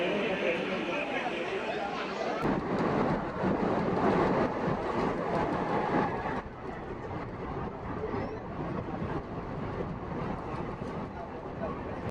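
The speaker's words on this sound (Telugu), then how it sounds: "ధర్మవరం నుంచి మన ట్రైన్ బయలుదేరింది" A Hindupuram–Guntakal DEMU train running after leaving Dharmavaram, a constant broad rumble and rush of wind heard from on board, louder in the middle and easing slightly toward the end.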